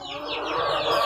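Backyard chickens at feeding time on a small home farm, clucking and chattering together in a continuous busy flock, moderately close, with no talking.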